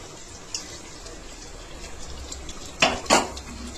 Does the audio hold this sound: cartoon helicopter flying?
no